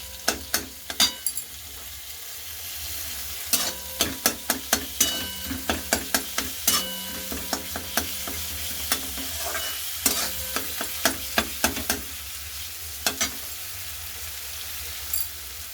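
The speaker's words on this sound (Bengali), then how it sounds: "কাঁচা লঙ্কার কুচি আছে, রসুন কুচি আর সামান্য আদা দিয়ে মশলাটাকে কষিয়ে এটার সাথে মেশাবো।" A masala of green chilli, garlic and ginger is sautéed for an aloo paratha filling, with a constant low sizzle under rhythmic, repeated spatula scrapes and clacks against the pan.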